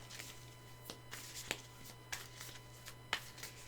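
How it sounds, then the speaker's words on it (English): Soft riffling and slapping of cards being shuffled, quiet and close, in short irregular bursts. "I don't have to shuffle and split the deck every time"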